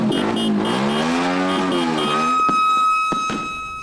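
Motorcycle engines rev up and down in repeated swelling pitches at a New Year's street party in Tondo, Manila, loud and close, giving way to a high whine and sharp bursts at the end.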